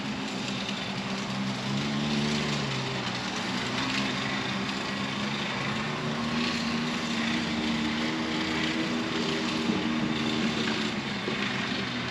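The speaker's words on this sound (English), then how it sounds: "That's the one-way clutch. You can hear it spinning." A steady mechanical whirring hum with a faint ringing whine from the spinning one-way clutch of a Can-Am DS90, continuous and even for several seconds, with no talking.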